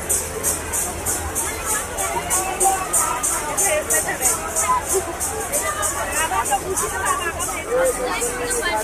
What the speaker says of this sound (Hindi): और देखिए यहाँ पर कितनी सारी भीड़ है